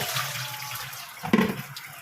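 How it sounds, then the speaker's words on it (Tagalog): Tap water runs into a container, starting as a soft steady trickle, then briefly gushing louder and splashing before settling back, close and without talk. "Ipon na tayo ng tubig kasi mamaya baka mawala ng tubig"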